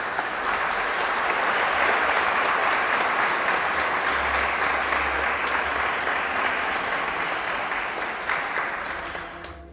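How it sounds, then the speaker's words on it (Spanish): A wedding congregation inside a parish church applauds during a Catholic Mass, loud sustained clapping from many people filling the space, holding steady before gradually thinning toward the end. "Les damos un fuerte aplauso, por favor"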